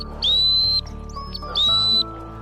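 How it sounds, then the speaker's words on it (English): Two short, high blasts from an Acme dog training whistle, with a slight upward slide, separated by a brief pause, over a low steady background hum. "I'm going to start off with an Acme whistle"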